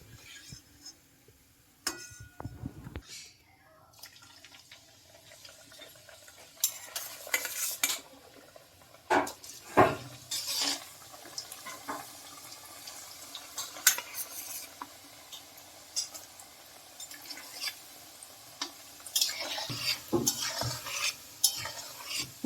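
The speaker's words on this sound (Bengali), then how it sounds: "পুরো একদম ডুবো তেলে ভাজতে হবে এটা, বেশি করে তেল দিয়ে।" Strips of kucho nimki dough deep-fry in plenty of hot oil, a close, continuous sizzle broken by scraping and clattering as a utensil stirs the pan in irregular bursts, with no talking.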